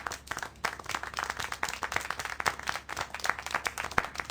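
Scattered hand clapping and light applause in the video game Syberia: The World Before patter on continuously at moderate distance, uneven and crowd-like, with no voices.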